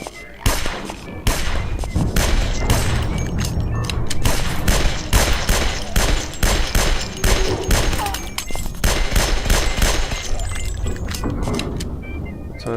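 Loud bursts of shotgun fire crack repeatedly in quick succession, dense and continuous for several seconds amid game-like noise in the zombie video game Guns, Gore & Cannoli.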